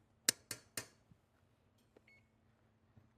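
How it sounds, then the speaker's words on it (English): A kitchen timer gives three quick, sharp beeps as it is set, followed by a couple of faint clicks and a brief soft tone in an otherwise quiet kitchen. "I'm going to set the timer."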